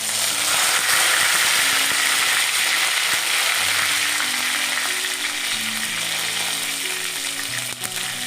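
Mustard seeds sizzle and crackle steadily in hot oil for tempering, a loud, dense frying hiss with faint popping that continues throughout.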